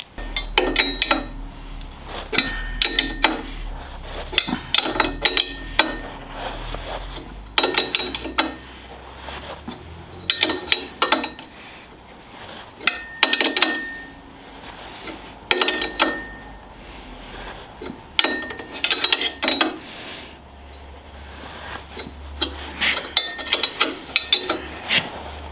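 Repeated ratcheting and metallic clicking as a puller tool is worked on a stubborn crankshaft damper hub, coming in rhythmic bursts of close, mechanical clacks separated by short pauses, with no talking.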